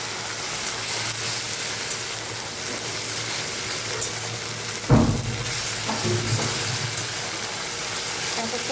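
Ginger and cumin paste with coriander powder fry in a pan for a rohu fish rezala, giving a steady close sizzle. A single sharp scrape of stirring cuts through partway, followed by a few softer stirs.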